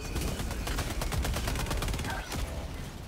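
Rapid automatic gunfire from a machine gun in a video game, a continuous burst of sharp, closely spaced shots that stays loud for about three seconds.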